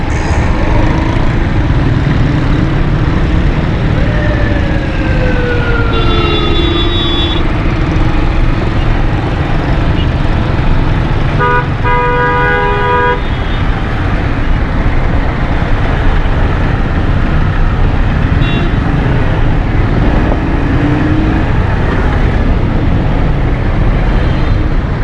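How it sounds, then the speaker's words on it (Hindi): Heavy road traffic near a Karachi underpass, a dense, loud, continuous roar of engines heard from a motorbike, with several short car horn blasts and a few passing whines rising out of the din. "यहाँ पर ट्रैफिक का थोड़ा सा रश है।"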